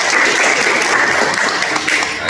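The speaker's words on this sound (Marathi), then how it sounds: "सगळ्यात आधी आपण डॉक्टर नितीश अग्रवाल आणि जगदीश अग्रवाल यांच्यासाठी टाळ्या वाजवल्या पाहिजे" A burst of close, dense applause from a crowd at a disability day health camp in a hospital, steady and loud from start to finish.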